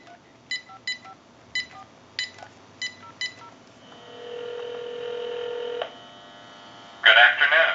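A General Electric 27909 cordless telephone dials out: a run of about eight short, evenly paced DTMF key tones, then a steady tone for a couple of seconds, followed by a brief loud burst.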